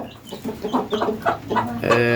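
Chickens cluck close by in a busy, uneven series of short calls, ending with a longer drawn-out call.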